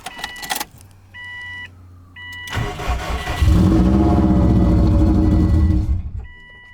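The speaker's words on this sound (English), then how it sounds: "It'll crank up for a second and then it'll die immediately." An EJ205 engine swapped into a 2001 Subaru Impreza 2.5RS with the MAF sensor plugged in cranks briefly, catches with a loud rough roar for a couple of seconds, then dies; warning chimes sound before and after.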